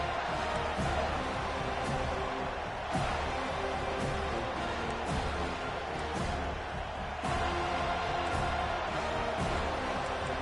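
A large stadium crowd roars steadily in the college football video game NCAA 25, a dense continuous wash of cheering with a few louder swells and thumps, filling the space without letup.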